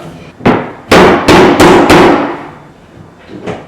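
Four loud hammer blows in quick succession while installing laminate flooring, sharp and close, followed by a fainter knock.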